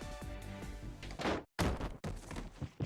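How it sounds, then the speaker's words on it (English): A body tumbles out of an opened closet in the visual novel Grisaia Chronos Rebellion, landing on the floor with a heavy thud that cuts off after a brief silence amid game music and effects. "whatever is inside falls down with a loud thud onto the floor"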